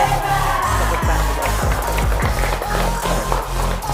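Vocational high school students clapping together, crisp claps over a low rumbling hum and a crowd murmur, close and steady throughout.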